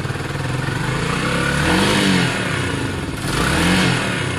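Motorcycle engine revving in two rising surges, running roughly and dipping between them as it threatens to cut out, close and fairly loud.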